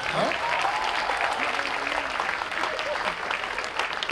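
An audience claps continuously at a university's tenth-anniversary celebration, a dense, steady round of applause with a voice faintly audible over it.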